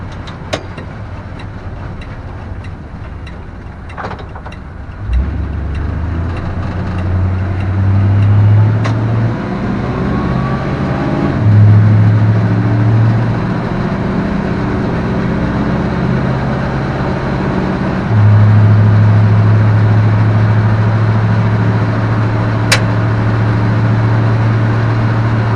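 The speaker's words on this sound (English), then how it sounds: "This is such a nice, tight driving truck." A 1965 Fargo D100 truck drives along with a steady low engine rumble and road noise, the engine note rising and falling as it shifts and accelerates, heard from inside the cab without talk.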